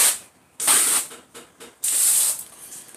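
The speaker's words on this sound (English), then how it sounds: "spray of water." A strong jet of water hits car wheels being cleaned with wheel cleaner, coming as two long hissing bursts separated by a few short spurts and quiet gaps.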